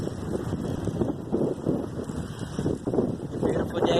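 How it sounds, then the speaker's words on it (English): Strong gusty wind buffets the microphone during a bike ride on a very windy day, a continuous rough roar that swells and dips throughout with no voice heard. "It's a really windy day. We have heavy wind."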